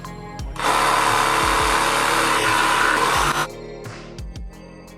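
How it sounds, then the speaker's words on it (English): A power tool cuts speaker holes into a timber shelf during a Crafter camper van conversion: one loud, continuous, harsh whine of about three seconds, with quieter workshop knocks before and after. "they then cut the holes in the shelf for the speakers."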